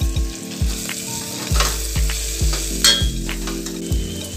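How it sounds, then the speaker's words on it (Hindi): Chopped fenugreek leaves fry in spices in a pan and hiss steadily while a spoon stirs them, making regular scraping strokes about every half second. The sound is close and there is no talking. "अब हम इसमें हमारी कटी हुई मेथी ऐड कर देंगे। मेथी को भी थोड़ी देर चलाएंगे।"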